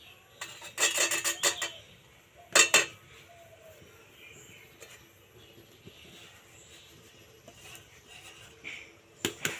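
A spoon stirs a powdered milk and mango mixture in a pan for mango sandesh, giving short bursts of clinking and scraping at the start, again briefly, and at the end, with quiet gaps between.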